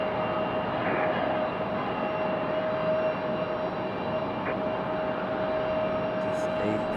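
An airliner, flight 2440 arriving from Denver, Colorado, at Raleigh-Durham International hums steadily at a distance, with a constant engine drone and a faint tonal whine throughout.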